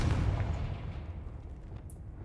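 A Confringo explosion spell goes off in the video game Hogwarts Legacy, a loud low boom at the start that rolls off into a decaying rumble over about two seconds.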